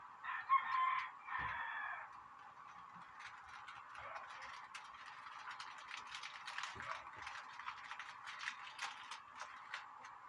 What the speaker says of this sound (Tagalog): Pasensya na kayo mga kamamsi dahil ang daming manok dito,